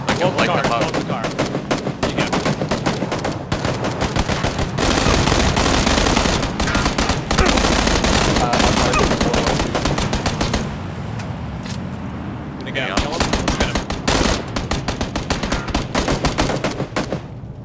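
Sustained automatic gunfire sprays from a moving car at enemies in a squad-based shooter video game, dense rapid bursts filling most of the stretch with a brief lull near the end before firing resumes.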